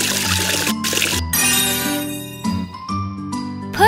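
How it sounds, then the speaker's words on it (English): Cartoon water splashing as a character washes its face during a morning routine, short bright trickling bursts over cheerful background music, with chiming tones mixed in. "Wash the face with water."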